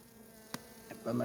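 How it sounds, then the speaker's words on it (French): Honey bees buzz over the frames of a nucleus hive holding a swarm, a faint close hum with a couple of brief passes before the buzzing swells louder at the end. "il y a pas mal d'abeilles sur tous les cadres"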